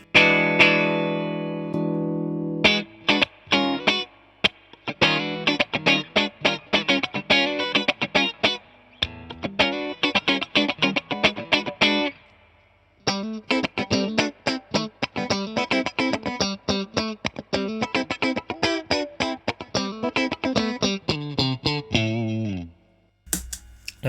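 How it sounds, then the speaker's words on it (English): Electric guitar played through an SP compressor pedal, clean plucked notes and quick strummed chords with even, squashed dynamics and short pauses between phrases. "So here's my SP compressor."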